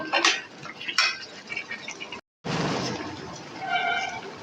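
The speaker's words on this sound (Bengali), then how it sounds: "ধনে পাতা একটু বেশি করে দিলে খেতে কিন্তু ভীষণই ভালো লাগবে একটু নেড়ে চেড়ে নেব" A spoon clinks and scrapes in a pan as a papaya and potato vegetable curry with coriander leaves is stirred, close and fairly loud, with a brief silent gap midway and a wetter, rustling stir afterward.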